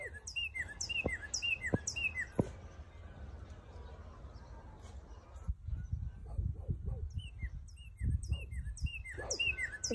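Bird in a Nepal setting calling over and over, quick bright chirping phrases in rapid series at the start and end, separated by a quieter stretch with low rumbling background noise.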